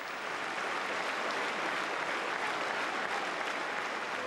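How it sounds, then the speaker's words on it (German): A large crowd claps continuously during the White March protest through central Brussels, a dense, even wash of applause that holds steady throughout without any voices. "Als später der Weiße Marsch durch die Brüsseler Innenstadt zieht, bedeutet das Klatschen Protest"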